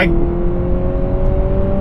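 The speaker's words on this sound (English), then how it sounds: "So that's a 2-liter 4-cylinder engine, obviously with twin motors for the all-wheel drive." A Honda CR-V Hybrid's 2-liter four-cylinder engine, paired with twin electric motors for all-wheel drive, hums close by in a steady, even drone with no break.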